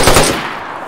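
A short, loud burst of rapid automatic gunfire in a video game shootout, a few close cracks tailing off quickly.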